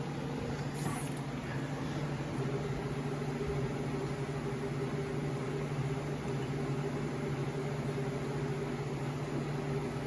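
A DIY powder coating machine in a home garage sprays with a steady, faint hiss and low mechanical hum that stays constant and unbroken throughout.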